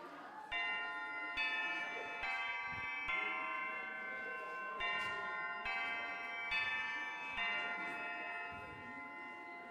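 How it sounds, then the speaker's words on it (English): A school lunch bell chimes in a video game as a bright, ringing electronic tone that repeats in even strikes about once a second over a soft background hum. "Oh, that's a lunch bell"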